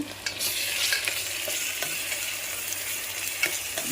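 Ginger garlic paste fries in a pan for a prawn curry, a steady close sizzle with occasional stirring scrapes and no talking.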